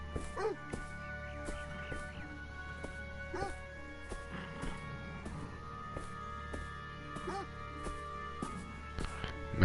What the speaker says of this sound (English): Maybe it just sounds like a bad dog.